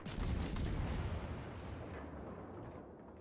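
Naval artillery shells firing in World of Warships Legends, a deep, booming blast that rolls on into a long, fading low rumble, with no voices.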